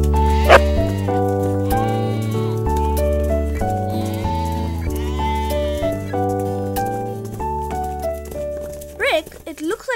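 Cartoon sheep give a short wavering bleat near the end, heard over bright, steady background music in a children's learning animation.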